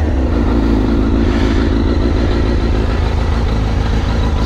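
A 2001 Suzuki GSX-R1000 K1 sport bike idles steadily after a cold start, a loud, close, even engine rumble that holds constant throughout.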